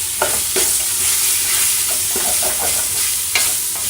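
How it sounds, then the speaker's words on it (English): Bacon frying in a pot, a loud, continuous crackling sizzle with occasional utensil scrapes and stirs, heard up close. "get the sizzle going. That's what we want. Get all that bacon in there."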